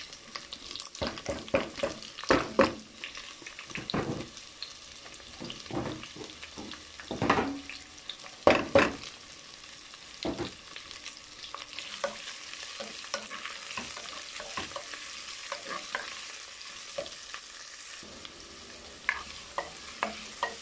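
Onions frying in a pan for pork belly adobo, with a constant sizzle of oil under repeated scraping stirs of a spatula that come in irregular bursts, close and fairly loud, with no voices.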